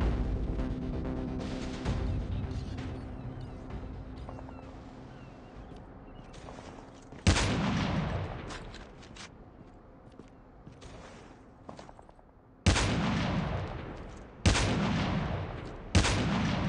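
Sniper rifle shots in Call of Duty Mobile boom out sharply, four heavy single cracks spaced several seconds apart, each with a decaying tail over quieter game background noise.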